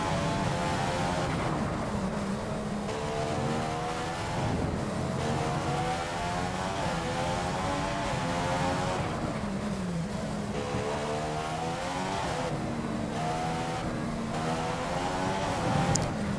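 A Formula 1 V6 engine in the F1 2015 game at Marina Bay Street Circuit, Singapore, wails steadily through the whole stretch, its pitch climbing and dropping with each upshift and braking zone, loud and unbroken, with no voices.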